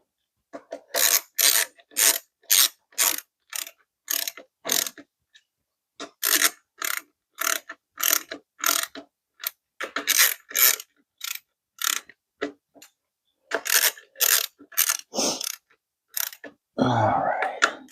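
A ratchet wrench turns valve cover bolts on a 2016 Honda Odyssey, clicking in rapid bursts of repeated pawl ticks separated by short pauses, close and clear, ending in a brief rustling noise.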